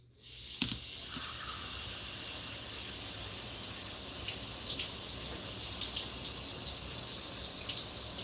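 Cold water gushes steadily from a tap in a constant bright hiss, starting abruptly and running on without pause.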